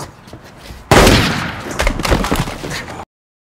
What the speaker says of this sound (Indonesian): tiba-tiba Doak muncul dan segera baku tembak pun terjadi